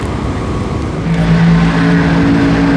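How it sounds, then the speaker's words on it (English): A 1989 Firebird drag race car with a naturally aspirated small-block engine, heard as a loud, steady engine roar that swells midway, with a rising tonal whine over dense rumble. "Left side is Andrew Taylor, 1989 model Firebird. Small block underneath the hood."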